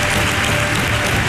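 Sustained audience applause on a Spanish TV talent show, dense and loud, a steady wash of clapping with no voices over it.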